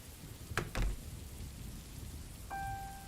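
Steady rain falls throughout at a moderate level in a gloomy school hallway scene of a visual novel game, with a couple of brief knocks early and a short chime-like tone near the end.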